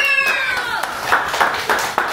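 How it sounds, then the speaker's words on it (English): Scattered hand claps at a 13th birthday party, a few sharp claps spread across the moment amid voices and faint tonal background sounds. "Everybody clap it up for Kamari's money!"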